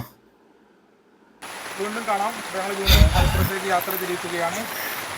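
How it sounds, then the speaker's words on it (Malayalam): Steady heavy rain hisses across a village scene after a quiet start, with a brief louder rumble partway through and faint voices talking underneath. "ഇപ്പോൾ നല്ല മഴ പെയ്തുകൊണ്ട് തന്നെ"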